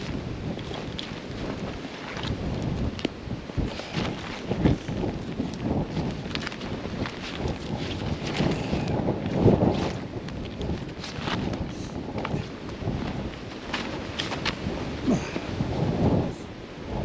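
Cold wind gusting across snowy mountain terrain, a constant loud rumbling roar buffeting close against the microphone, with no talking.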